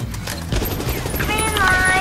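Gunfire from a Squid Game video game, with bursts of rapid shots layered over a busy, loud game mix and some talk throughout.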